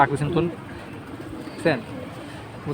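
Tumbler pigeons bred for flight coo softly at a pigeon market, with a couple of short cooing bursts close by while people talk over the birds.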